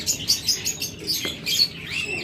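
A pair of pet lovebirds, one lutino red-eye opaline and one blue opaline, chirp in quick high tweets that come in short repeated bursts, fairly close, with no talking over them.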